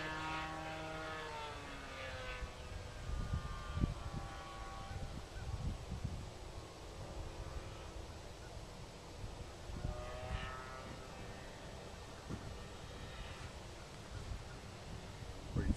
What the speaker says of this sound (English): That's a nice plane.